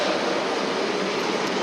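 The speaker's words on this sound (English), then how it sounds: "this train is slowly coming through because it has a red light from that other train" A Melbourne Metro train creeps slowly through a station, held back by a red signal, giving a steady, loud broadband rumble and hiss with no breaks.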